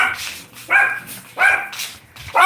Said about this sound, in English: That's why my dogs are barking.